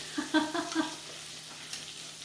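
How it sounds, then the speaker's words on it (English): Soft sizzling and bubbling from a pan of marsala sauce with a few light pops, steady and fairly quiet throughout. "It's already boiling. It's already popping."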